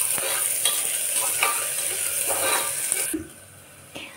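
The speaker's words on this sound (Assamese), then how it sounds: "আদা নহৰু পেষ্টটো অকণমান কেঁচা গোন্ধ যোৱালৈকে ভাজি ল'ম।" Ginger garlic paste fries in a pan for chicken soup, a steady sizzle broken by repeated scraping stir strokes. The sizzle drops away sharply near the end.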